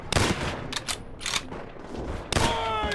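A gunshot executes a prisoner in Call of Duty: World at War, one of several sharp, loud game gunfire bursts spread across a few seconds amid other game sounds.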